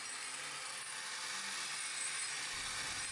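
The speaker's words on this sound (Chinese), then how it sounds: "捡回来的石头还需要经过打磨造型，才能显现出它本身的精美及其价值所在。" A power tool grinds and shapes collected stones, a continuous, even abrasive whir that holds steady throughout without pauses.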